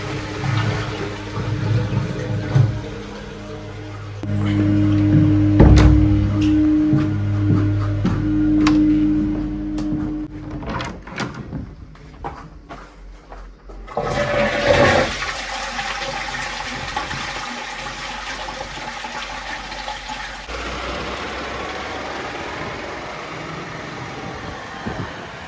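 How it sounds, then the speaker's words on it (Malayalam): A home toilet is flushed during a septic tank check, giving a loud rushing gush of water that drains and fades into a steady refilling hiss, with no talk. "അവർ നമ്മുടെ ടോയ്ലറ്റ് ഫ്ലഷ് ചെയ്യാൻ പറഞ്ഞു കേട്ടോ."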